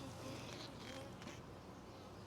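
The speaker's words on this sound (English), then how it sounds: "Try not to squish any bees." Honey bees buzz around a heavy, honey-laden hive frame during a nuc inspection. The drone is a faint, continuous hum with a few louder passes from nearby bees.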